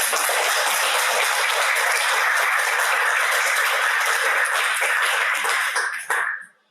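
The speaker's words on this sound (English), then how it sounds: "let's give a round of applause" An audience at a book event gives a round of applause, a dense, even wash of clapping that holds steady for several seconds and then fades out quickly.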